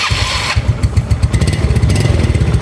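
A Yamaha Mio scooter with a leaking exhaust filter starts up close by, with a brief starter whir followed by a loud, rapid, putt-putting idle.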